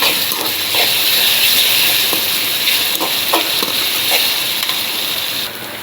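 Steady, dense sizzling of ginger-garlic paste frying in hot oil, close and fairly loud, with occasional soft stirring scrapes and no talking.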